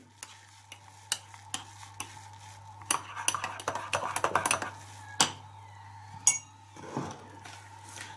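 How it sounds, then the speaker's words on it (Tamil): A spoon stirring egg coffee, coffee poured into beaten egg in a cup: repeated sharp clinks against the cup at irregular intervals, then a quicker flurry of scraping and tapping, with a steady low hum behind. "மற்ற கோப்பியை நாங்கள் அந்த முட்டைக்குள்ளே ஊற்றுறோம். ஊற்றி நன்றாக கலக்கவும்."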